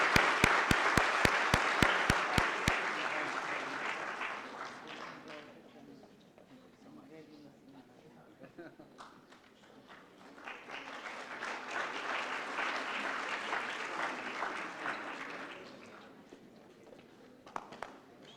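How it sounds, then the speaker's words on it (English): Audience applause breaks out for Reza Aslan after the 5th Yohsin Lecture at Habib University, loud and sustained clapping that swells, eases back, then rises again before fading, with a few sharper claps near the end. "Another round of applause for our wonderful Reza Aslan."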